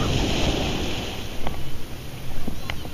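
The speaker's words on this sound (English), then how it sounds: "Waves are getting fierce." Ocean surf rolling in and breaking on a beach, a steady broadband wash with a couple of louder wave surges and some wind noise on the microphone.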